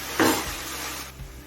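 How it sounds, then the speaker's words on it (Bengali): Grated coconut filling for patishapta sizzles in a pan over a high flame, a short hissing burst with a light stir before it fades to a low simmer. "হাই ফ্লেমে তিন চার মিনিট নাড়াচাড়া করে নিয়েছি এবার গ্যাসের ফ্লেমটা লোতে করে দেবো"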